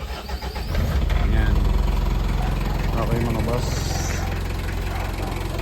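A 2015 Mitsubishi L300 Exceed engine turns over and settles into a steady, even idle close by, while someone speaks briefly over the running motor.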